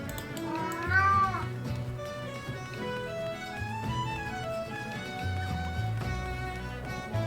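A cat meows once, clear and high, over game music in Final Fantasy XIV, with further faint mewing woven through the steady melodic background.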